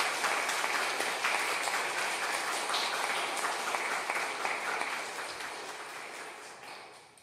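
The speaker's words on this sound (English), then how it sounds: "Can you give them a round of applause?" A school congregation at a Mass of the Holy Spirit gives new students a round of applause: a long, steady wash of many hands clapping that fades gradually near the end.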